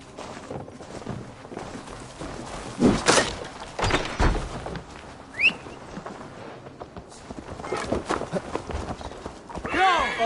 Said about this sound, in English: Basim, Eivor, to horse!